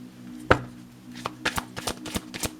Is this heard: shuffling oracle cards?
yes